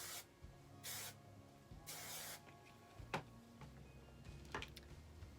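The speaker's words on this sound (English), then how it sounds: "I'm going to go ahead and spray this side" Hairspray mists in three short bursts onto curled short-to-medium hair, each hiss lasting about half a second, followed by soft ticking and rustling close to the microphone.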